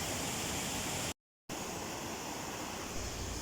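A river waterfall in Michigan's Upper Peninsula roars as a steady, dense wash of rushing water, loud and close, broken by one brief dropout of silence before the torrent resumes.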